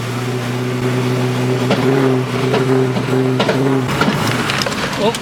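An LS-swapped Holden VH Commodore engine idles with a steady hum, then revs and pops in rough, uneven bursts near the end.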